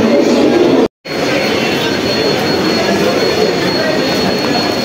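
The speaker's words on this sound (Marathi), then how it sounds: "ही अंबरनाथ फास्ट ट्रेन होती" An Ambernath fast local train roars past close by, a loud continuous rumble with rattling wheels, briefly cut by a short gap near the start.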